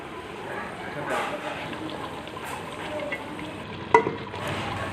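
Masala of turmeric and red chili frying for beef paya, a steady low sizzle running throughout with a sharp clatter near the end.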